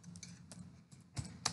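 A few faint, close keystrokes tap on a computer keyboard as a ping command is typed, coming as sparse irregular clicks.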